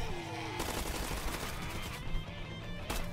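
Rapid gunfire blasting zombies in a Roblox zombie shooter game, dense bursts of shots in close, loud succession with brief pauses between volleys.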